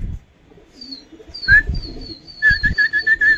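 Pigeons in a rooftop loft cooing, soft low coos near the start joined by a series of clear repeated whistling calls and chirps, close and distinct, rising into a rhythmic sequence toward the end.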